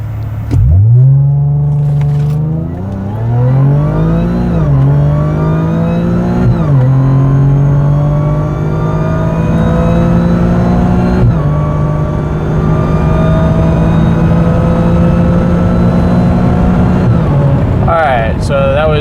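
Supercharged Audi 3.0T accelerating hard through the gears, including a shift from 4th to 5th, with rising engine pitch, brief dips at each shift, then a long loud sustained pull heard from inside the car.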